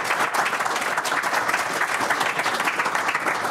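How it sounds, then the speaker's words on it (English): Audience at an energy industry presentation applauding its panelists, a dense, steady wash of many hands clapping that holds at an even level throughout without pause. "I think our panelists deserve a round of applause for their excellent presentations today"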